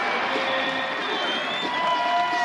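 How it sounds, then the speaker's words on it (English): Basketball arena crowd at a UWGB versus UWM college game roaring steadily as the home team retakes the lead, a dense, sustained wash of cheering with no clear breaks throughout. "And this crowd coming to life as their team has regained the lead."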